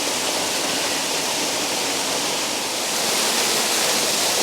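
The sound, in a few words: waterfall roaring up close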